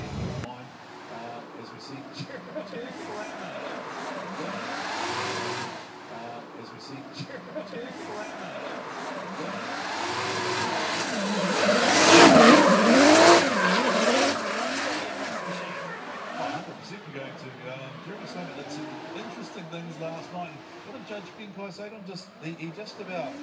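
A Toyota Supra drift car at a D1NZ drift qualifying event roars and revs nearby, its tires screeching as it slides, rising to a loud peak midway before fading. Speech runs over the engine.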